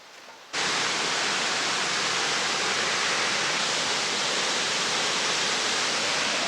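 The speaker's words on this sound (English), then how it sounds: "Now with a big waterfall like this" Big waterfall in Yellowstone National Park, a loud, steady broadband roar of falling water that surges in after a brief quieter moment and then holds constant, close and alone with no voices.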